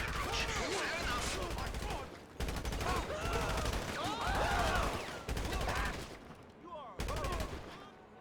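Gunfire rattles in bursts during the GTA Online Cayo Perico heist, with guards shooting amid rapid shots and heavy echoing blasts. Voices talk over and between the volleys.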